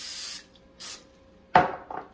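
Two short hissing bursts of spray oil from a nozzle over air fryer food, followed by a sharper rattle and scrape close by.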